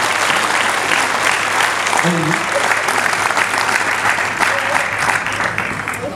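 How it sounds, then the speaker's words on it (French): Sustained, loud audience applause in a hall for an honorary citizen receiving a medal from the town of Florange, a continuous wash of clapping with faint voices underneath. "Je vous remercie pour vos applaudissements"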